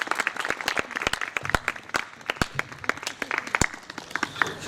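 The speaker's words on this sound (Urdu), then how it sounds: "زوردار کلیپنگ ہونی چاہیے" Applause from an audience at a Christmas celebration with a cake cutting and a bishop being garlanded, dense irregular clapping sustained throughout with loud sharp claps up close.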